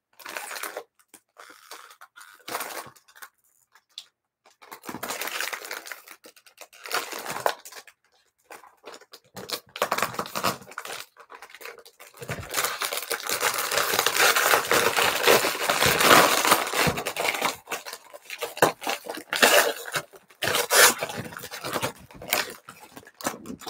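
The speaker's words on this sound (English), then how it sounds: "let's unwrap this" Package being unwrapped by hand, with irregular crinkling and tearing bursts of plastic or paper, building into a sustained stretch of loud rustling midway before breaking into sporadic crackles again, close and without talk.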